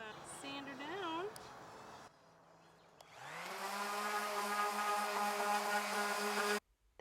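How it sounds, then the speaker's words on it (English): A power sander working down a wooden farmhouse table: after some quieter background sound, the motor spins up to a steady, loud whining drone with a constant hum, then cuts off abruptly near the end. "now we're just gonna sand her down."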